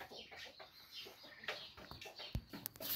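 Young laying hens cluck softly in a quiet setting on a small farm, giving a few faint, scattered clucks and light rustling.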